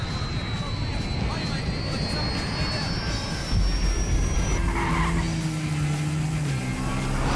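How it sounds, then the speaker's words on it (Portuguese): Airplane plunging down in the video game GTA V, a loud sustained jet-engine roar with a rising whine, then a deeper rumbling drone as it falls, mixed with car engine noise. "Plane's coming down."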